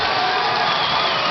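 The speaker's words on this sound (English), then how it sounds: "Crowd is all over Rodney Harris after committing that foul." A basketball crowd at a 1992 high school semifinal game between Long Beach and West Valley roars after a foul, a dense, steady wall of shouting and cheering filling the gym with no break.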